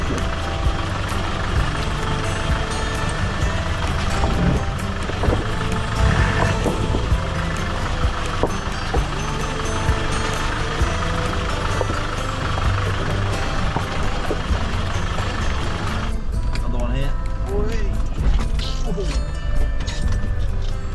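Three Land Rover off-road trucks drive down a lane during off-road exploring, a steady engine drone and rumble running throughout with mechanical clatter, the tone thinning near the end.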